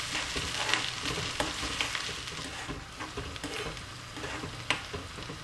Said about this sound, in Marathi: बारीक चिरलेली शिमला मिरची घालून त्या शिमला मिरचीला 2 मिनिटं त्या लसूण, आलं आणि तेलामध्ये परतू देऊया